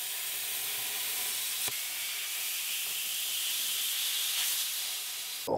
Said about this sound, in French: je vais transposer ce dessin sur la tôle pour la découper ensuite au plasma